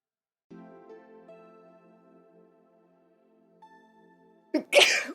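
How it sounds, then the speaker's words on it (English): A person hums a low sustained tone, then lets out a sudden, sharp sneeze close by. "Oh, excuse me. I did sneezed."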